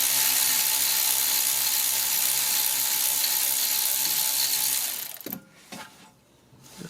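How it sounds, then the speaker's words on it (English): A ratchet loosens a T45 bolt on the rear brake of a 2011 BMW 323i E90, making a continuous, fast whirring rattle close by that stops abruptly, followed by a few isolated clicks and clanks. "Alright, so let's remove that bolt"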